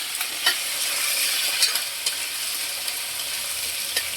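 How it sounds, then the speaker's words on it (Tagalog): Continuous sizzling of papaya sautéing in a hot pan with a few sharp scrapes and clicks of stirring, moderately loud and close, no voices. "habang ginigisa natin itong ating papaya"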